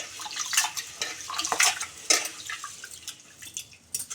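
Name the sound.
water washing soaked rice and split mung dal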